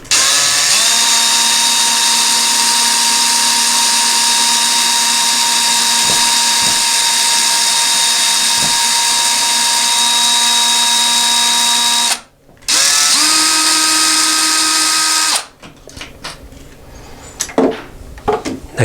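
A power drill backs screws out of a wall while a toilet paper holder is being installed. A long, steady, close whine runs for about twelve seconds, then stops briefly and runs a second shorter time, followed by scattered handling clatter.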